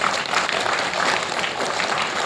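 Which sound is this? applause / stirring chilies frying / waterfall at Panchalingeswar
applause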